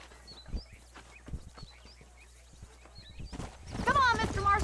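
Horse hooves clip-clopping in the Red Dead Redemption video game, a loose rhythmic trot under speech, with birds chirping and a louder burst near the end.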